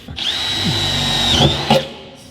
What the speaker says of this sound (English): I'm just gonna smoke a drill bit.